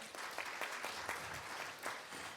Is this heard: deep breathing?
no